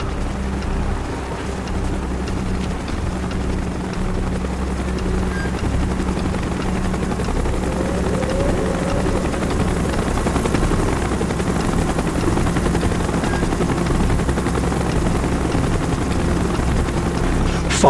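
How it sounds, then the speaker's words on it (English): A helicopter in the Call of Duty Black Ops game drones steadily throughout, a dense, continuous rotor and engine roar with no speech over it. "Chopper's inbound! Move it!"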